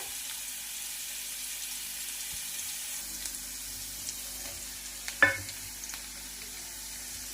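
Onion and curry leaves frying in a pan for Vidarbha-style tur ghugrya, a steady low sizzle with a brief louder crackle and clatter partway through, no voices.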